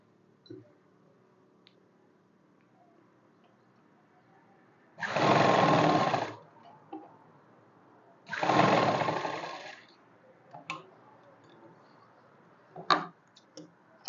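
A sewing machine stitches a kurti seam on crepe fabric in two loud, steady bursts of about a second and a half each, followed by a few light clicks.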